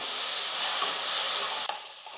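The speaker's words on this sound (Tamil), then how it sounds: "தக்காளியெல்லாம் நல்லா வதங்கட்டும்" Onions and chopped tomatoes sautéing in a hot pan, a close, steady sizzling hiss that drops slightly after a brief stir near the end.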